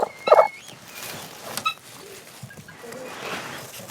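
Chickens in a coop, a sharp burst of gobbling clucks at the start followed by scattered softer bird noises and rustling.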